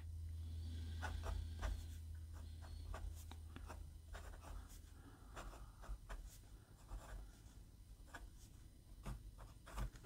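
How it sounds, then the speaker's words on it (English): Steel-nib Crocodile fountain pen writing on paper with average smoothness, giving a faint, close scratching of short strokes in irregular bursts over a low steady hum, with no talk. "This is writing, I'd say, average smoothness."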